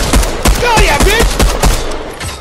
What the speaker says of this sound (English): I love how none of my pistol shots hit him